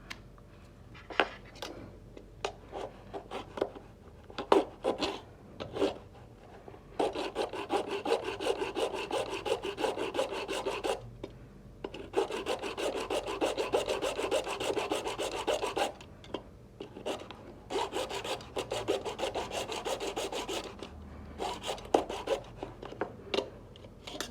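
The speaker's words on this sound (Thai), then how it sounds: "เพราะฉะนั้นมีทางเดียวเลยเราก็คือ ก็ต้องเลื่อยมันออกมานะครับ" Hand saw cutting through the plastic casing of a 65W laptop power adapter, loud rapid rasping strokes in bursts with short pauses between, close up and without talk.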